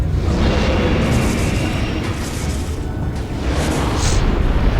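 Bombs exploding at a boss's feet in Metroid Prime 3, dense continuous game booms and rumbling blasts with bright bursts layered over a loud soundtrack.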